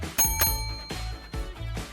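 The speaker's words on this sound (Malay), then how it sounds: "akan bunyikan loceng seperti ini" A small bell rings sharply three times at an uneven spacing, each ring bright and close and decaying quickly into a faint hum, with no talking over it.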